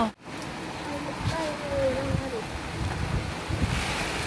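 A strong wind gusts and roars outdoors while wild-berry picking in the Nordic forest, a loud, buffeting blast with microphone rumble that swells and dips across the whole stretch, with faint voices nearby.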